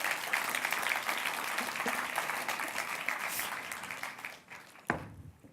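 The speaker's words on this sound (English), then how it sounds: "Big round of applause, please." Audience applause at a youth active-citizenship gala ceremony, a dense spread of many hands clapping that thins and dies away near the end, with one louder clap just before it stops.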